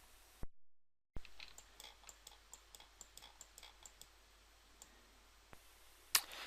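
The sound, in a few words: computer mouse clicking and dragging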